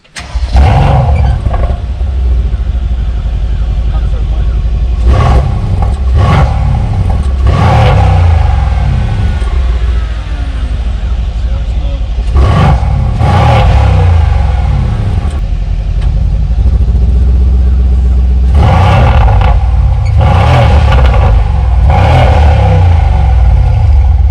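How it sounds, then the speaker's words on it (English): A 2019-2020 Mercedes-AMG C63 S exhaust revs hard in repeated bursts over a deep idling rumble, each roar rising sharply and then falling back. "Let's hear the exhaust of the car."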